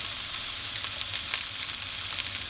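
Hamburger patties sizzle in a hot pan with a steady, bright, close frying hiss and light crackle throughout, with no talking.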